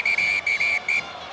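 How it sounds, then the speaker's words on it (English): Rugby referee's whistle at a France match in 2009, sounded in three sharp piercing blasts, near and loud, followed by quiet stadium murmur. "And the referee has blown his whistle."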